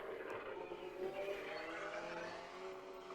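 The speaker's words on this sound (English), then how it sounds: "That's the sound of a drone, by the way." A small drone flies nearby, its steady droning buzz with shifting harmonic whine holding at a constant moderate level throughout, alone with no talking.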